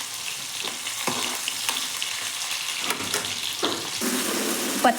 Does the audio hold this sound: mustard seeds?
yes